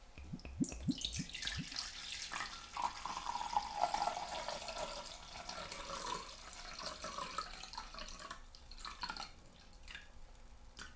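Vodka pours out of a 750 ml glass bottle into a container, a trickling, gurgling liquid stream with small drips, close and soft, lasting several seconds with no talking.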